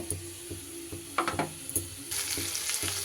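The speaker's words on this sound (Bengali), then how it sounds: "এইবারে আমি পেস্ট করে রাখা মশলাটা দিয়ে দেব" Masala paste frying in hot oil in a pan gives a close, steady sizzle, with rhythmic scraping strokes of a spoon stirring it and a brighter hiss building toward the end.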